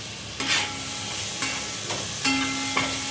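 Chopped tomatoes frying in a pan of liver curry with amaranth greens: a continuous sizzle broken by several distinct stirring scrapes and clinks of a spoon against the pan.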